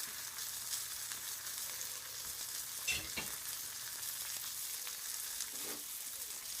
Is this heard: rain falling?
no